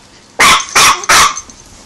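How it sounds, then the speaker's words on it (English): A dog barks three times in quick succession, loud and close, followed by a softer trailing grumble in a quiet room. "She wants to bark so bad."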